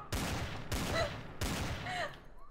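Gunfire in the online shooter game Trouble in Terrorist Town: three sharp, loud bursts spaced about half a second apart, each with a brief ringing tail, close and dominant.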